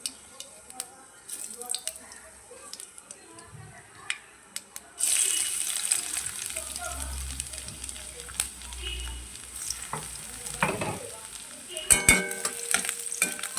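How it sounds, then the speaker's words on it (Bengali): Nigella seeds and chopped garlic hit hot oil in a pan for a Bengali lote fish fritter recipe, bursting into a loud, steady sizzle about midway that continues with occasional crackles and clinks, after a quieter stretch of faint kitchen sounds and a low hum. "এর মধ্যে কালো জিরে আর রসুন কুচি ফোড়ন দিয়ে দেবো"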